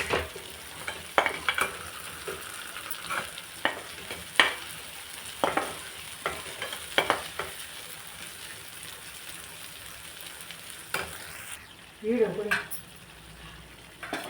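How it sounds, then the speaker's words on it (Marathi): Ground spices including coriander powder, garam masala and kasuri methi fry in a pan for dum aloo gravy, a steady sizzle broken by repeated sharp scrapes and taps of a spoon stirring, with a clatter near the end. "धना पावडर, गरम मसाला आणि कसुरी मेथी। हलवून घेऊ।"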